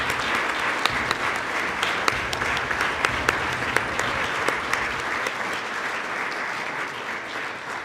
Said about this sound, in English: Please join me for one more giant round of applause for these amazing young women, the 2026 Shad Derby Queen candidates.